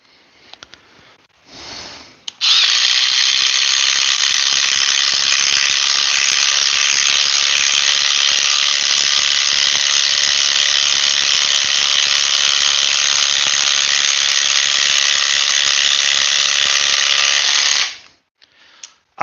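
A Makita power tool runs slowly and steadily for about fifteen seconds, a loud, even whirring drone that starts abruptly after a brief lead-in and cuts off at the end, with no talking.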